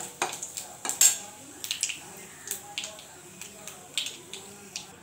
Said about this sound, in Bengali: ফোড়ন, লঙ্কা, জিরা আর কালো জিরা ফোড়ন দিচ্ছি